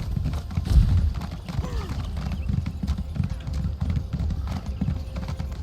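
Horse hooves clip-clopping in a questing video game, a brisk continuous rhythm of hollow knocks with a brief whinny, against a low rumbling background.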